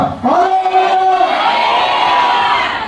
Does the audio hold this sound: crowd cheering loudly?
yes